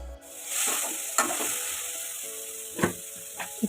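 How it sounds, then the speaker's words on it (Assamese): Chopped pineapple and salt fry in a pan for a sweet-sour chutney: a close, steady sizzle with a few sharp scrapes and knocks from stirring, no voices. "এতিয়া ভালদৰে গোটেইখিনি মিক্স কৰি অলপ সময় ভাজিব লাগিব।"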